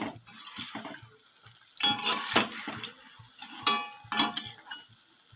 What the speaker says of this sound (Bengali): ফুলকপির চপগুলোও খুব ভালোভাবে ভাজা হয়ে গেছে